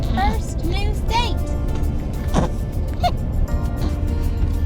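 An RV rolls along a road in traffic, with a steady low engine and road rumble, people talking and a baby's voice over it, and occasional chirps and knocks.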